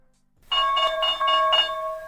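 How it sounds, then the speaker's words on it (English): A trading-stream opening bell sound effect chimes in a bright, ringing burst of repeated tones, clear and loud after a brief silence, with the ringing sustaining and fading toward the end. "Opening bell out here for you."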